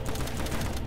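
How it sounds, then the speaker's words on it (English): Gunfire in the DayZ survival game, a steady burst of suppressive shots sounding near and loud, packed closely together with no pause across the short stretch. "I'm just shooting suppressive fire"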